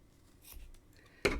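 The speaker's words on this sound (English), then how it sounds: "What I usually do is I first come in and I'll cut my loops." Scissors snip through loops of thin yarn while tassels are made. A soft rustle comes first, then one sharp, close cut near the end. Nobody speaks.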